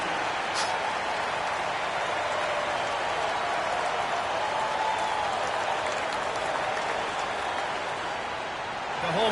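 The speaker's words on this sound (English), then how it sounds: "The home fans cheering for MP, who now stands alone as the single-season record holder for total points." Home fans at a basketball game cheer and applaud in a dense, steady roar of clapping and crowd noise that fills the arena without a break.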